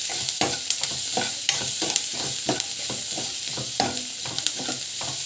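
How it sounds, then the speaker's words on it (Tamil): Pasala keerai greens frying in a pan with asafoetida, heard as a close, continuous sizzle broken by a regular rhythm of scraping stirring strokes, with no talk. "ஸோ இப்போ வந்து பார்த்தீங்கன்னா நல்லா வந்து ஃப்ரை ஆகட்டும்"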